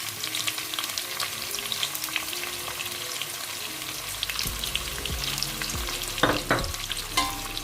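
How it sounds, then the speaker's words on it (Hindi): Onion frying in oil in a pan for bhindi chicken, a steady sizzle with a few stirring scrapes and clatters near the end, close and without talk. "तो अब हम इसमें जो है प्याज वो ऐड करेंगे।"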